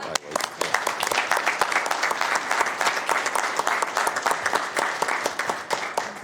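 A council meeting audience and board members break into steady applause, many hands clapping at once in a dense, even patter that stays strong for several seconds.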